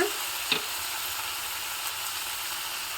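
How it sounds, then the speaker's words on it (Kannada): Onions and small tomatoes sauté in a pan, giving a steady, even hiss of sizzling that runs throughout with one light click early on and no voices. "ಈರುಳ್ಳಿ ಮತ್ತು ಟೊಮೊಟೊವನ್ನು ಚೆನ್ನಾಗಿ ಬಾಡಿಸ್ಕೊಳ್ಳೋಣ"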